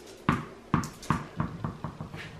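A ball kicked for a dog, bouncing repeatedly on a hard surface, about seven thuds coming faster and fainter as it settles, recorded fairly close.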